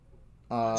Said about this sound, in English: I'm sorry about that noise. That is my cat.